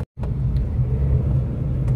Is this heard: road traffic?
yes